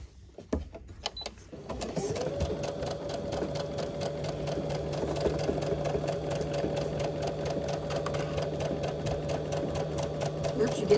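A sewing machine stitches skirt fabric with a steady, fast mechanical whirr and clatter after a few handling clicks. Voices talk over the machine, which stays close and continuous.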